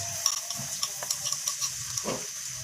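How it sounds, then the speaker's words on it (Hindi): Onions frying in hot cooking oil in a kadhai give a faint, steady sizzle with small crackles and occasional stirring clinks, quiet and close, with no voices. "मैं प्याज डाल दूँगी और प्याज को ब्राउन होने तक फ्राई कर लूँगी"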